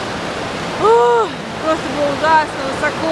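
Multnomah Falls roars as a loud, steady rush of falling water, with someone talking over it throughout.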